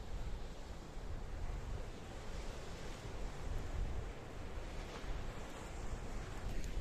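Mediterranean Sea waves wash steadily along the Kissonerga seafront near Paphos, Cyprus, a constant broad surf hiss mixed with wind noise on the microphone, with no voices.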